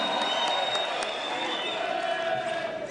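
A large crowd at a party meeting claps and cheers for its party leader, a dense continuous wash of applause with no break.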